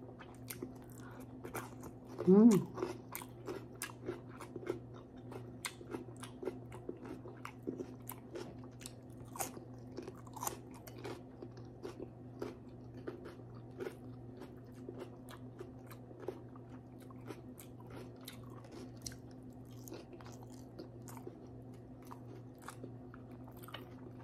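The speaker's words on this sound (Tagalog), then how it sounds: "Crunchy yung pipino." Crunchy bites of fresh cucumber eaten alongside fried fish, a sharp loud crunch early on followed by many soft, irregular chewing and biting clicks close to the mic, with no talking.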